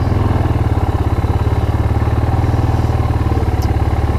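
A barn-find Yamaha Moto4 ATV with a clone carburetor idles after a cold start, a loud rapid steady putter close by, running evenly throughout.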